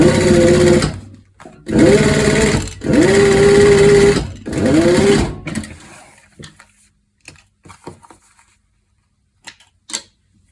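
A sewing machine top-stitches a leather corset, running in four loud, close bursts of steady whirring separated by short pauses, then giving way to quiet with a few faint handling clicks.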